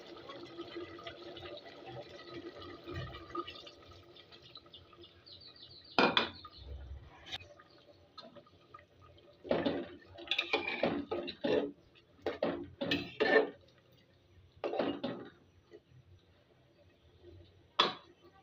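Broth is added to a chicken and potato curry in a pot, with liquid pouring and splashing followed by a series of scraping, clinking stirs of a utensil against the pot, close and intermittent.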